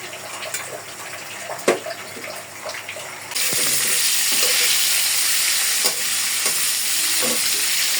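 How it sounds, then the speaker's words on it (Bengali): Dried fish curry stirred and sautéed in a pan gives close spatula scrapes and taps over light cooking at first, then a loud, steady frying sizzle takes over with occasional stirring knocks. "খুব সুন্দর করে কিন্তু শুটকি তরকারিটা কষানো হইতেছে"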